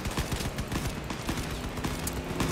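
Summator nailgun shots fire in single-fire mode in the Crossout vehicle combat game, a rapid, regular run of sharp impacts over dense engine and battle noise, loud and close throughout.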